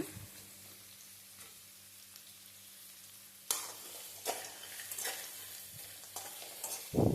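Onions frying in a pan for Karnataka-style avalakki, a quiet stretch giving way to a soft sizzle and intermittent stirring scrapes, close but fairly low in level.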